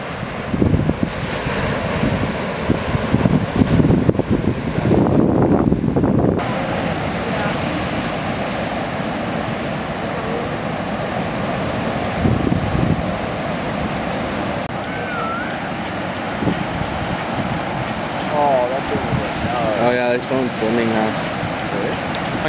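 Heavy ocean surf pounds steadily at Honolua Bay during a big swell, a continuous roaring wash of breaking waves with wind buffeting the microphone and voices talking over it throughout.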